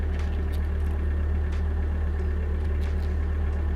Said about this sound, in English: There's a truck right over here.